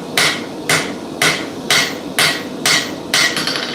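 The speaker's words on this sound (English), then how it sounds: "hang it over the edge of the anvil, and I'm going to forge down all the way, dress the upset again" A hammer strikes hot metal held over the edge of an anvil while forging a press punch. About seven sharp, evenly spaced ringing blows land close and loud, with no voices.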